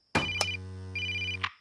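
A telephone rings with a bright electronic tone, one short burst followed by a longer sustained ring, close and clear with nothing else around it.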